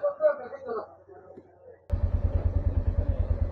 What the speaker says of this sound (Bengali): আমার পেছনে তো তিনাদা বাইক স্টার্টও করে দিয়েছে